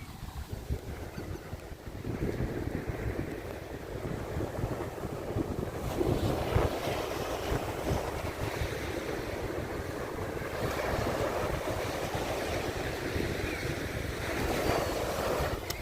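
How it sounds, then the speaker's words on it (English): Waves break and surge at Sheepshead Bay, Brooklyn, during a nor'easter, with gusting wind buffeting the microphone in a continuous loud roar that swells in places. "let's enjoy the waves"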